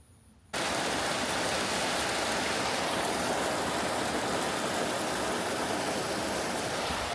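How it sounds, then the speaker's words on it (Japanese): Heavy rain suddenly starts pouring on a rural house with a veranda, a dense, steady roar that stays loud and unbroken after a quiet start. "めっちゃ雨が降ってきた"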